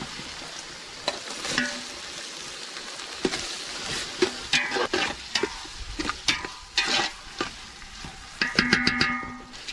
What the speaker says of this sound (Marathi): टोमॅटो याच्यामध्ये पूर्ण नरम फ्राय चांगलं असं नरम वाश येईपर्यंत करायचं